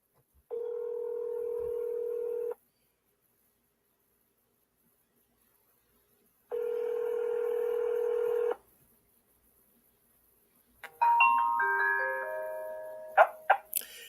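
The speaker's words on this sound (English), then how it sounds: "It's ringing here, Nia McBee." A telephone line gives two long, steady ringing tones separated by silence, then a quick run of overlapping dialing beeps in shifting pitches.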